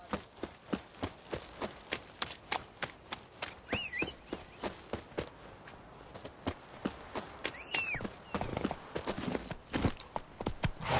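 Roach the horse gallops in The Witcher 3, with close, steady clip-clop hoofbeats repeating evenly throughout and a couple of faint brief chirps in the background.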